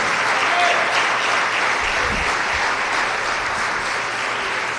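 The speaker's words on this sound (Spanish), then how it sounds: "Aplauda fuerte porque eso lo tiene usted en pie." Congregation applauding during a church sermon, dense sustained clapping filling the whole stretch, loud and even.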